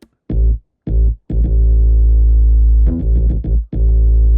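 A buzzy synth bass processed with overdrive, OTT, Distortion 2 and EQ plays loud, sustained notes in short bursts, then a longer held tone with choppy stutters near the end.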